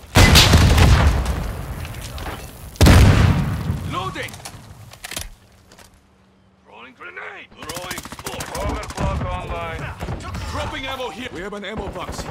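A grenade explodes in Call of Duty with two loud booming blasts early on, followed by scattered gunfire and in-game voices over a quieter battlefield.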